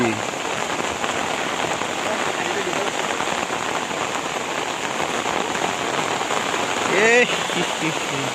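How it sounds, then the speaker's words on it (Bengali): Heavy rain pours down in a dense, loud, continuous hiss, with a brief sharper rise near the end. "প্রচন্ড বৃষ্টি হচ্ছে"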